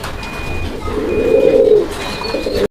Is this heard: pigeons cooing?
yes